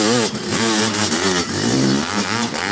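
An 80 hp Stark Varg Alpha electric motocross bike revs hard up close, a loud, continuous whining motor tone that rises and falls in pitch.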